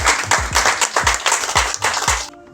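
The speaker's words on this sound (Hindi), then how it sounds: "सब लोग ताली बजा के स्वागत करें।" A crowd at a club installation ceremony claps together to welcome new members, a loud, even rhythm of hand claps at roughly four per second that stops abruptly at the end.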